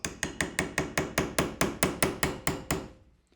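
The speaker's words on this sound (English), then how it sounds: "Now I'm going to hold my bolt so that I can drift out the pin that has the ejector plunger." A steel hammer drifts the ejector plunger retaining pin out of a rifle bolt, thirteen sharp, evenly spaced metallic taps in a steady rhythm, close and clear, with no talking.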